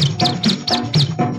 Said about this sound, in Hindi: छुन छुन करती आई चिड़िया